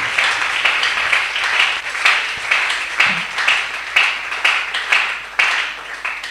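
A church congregation applauds loudly and steadily for the Lord during a revival service, dense close clapping that swells in rhythmic waves over several seconds.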